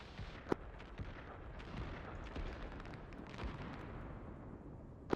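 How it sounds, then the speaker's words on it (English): Mortar fire in a military video game: a few sharp, distant booms stand out over a steady low rumble of battlefield ambience. "I'm hearing mortars coming in from the northwest"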